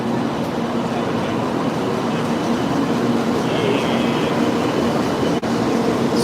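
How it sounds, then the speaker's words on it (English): A Sakura Kyushu Shinkansen bullet train pulls into a platform at Hakata Station in Fukuoka. It makes a steady, fairly loud broadband rumble and rush that holds level throughout, with no voices over it. "coming now is the Sakura Kyushu Shinkansen on the way in"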